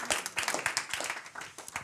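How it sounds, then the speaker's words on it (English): Audience applause at a leadership awards event, a dense round of clapping with distinct individual claps, fairly close and steady, briefly swelling and settling. "I think we just need to give that a round of applause."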